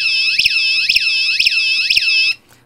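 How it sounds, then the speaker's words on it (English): An Arduino-generated electronic alarm tone resembling a house alarm. It is loud and alone, with a rapid pitch sweep that rises and falls in a steady cycle of about half a second, then cuts off abruptly near the end. "This is more like a house alarm."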